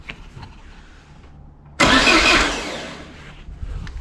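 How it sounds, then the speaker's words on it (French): A Peugeot 205 GTI is cranked on its starter motor. After a quiet lead-in, there is a sudden loud burst as the engine turns over and briefly catches, fading over a second or so into a lower rumble. "Il a tourné au démarreur, mais il a tourné"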